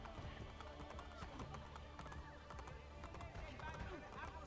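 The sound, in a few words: horse hooves from video game Assassin's Creed Brotherhood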